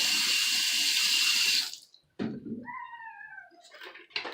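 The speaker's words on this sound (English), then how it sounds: "I'm gonna wet this with some hot water." Hot water runs hard from a tap in a steady loud rush for over a second, then is shut off, followed by a cat's clear meow.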